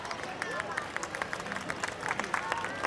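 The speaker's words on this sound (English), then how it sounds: "Dear parents and guests, your applause should not stop." Scattered clapping from parents and guests at a school prize distribution ceremony, fairly faint and sustained for a few seconds with background crowd murmur and some talk.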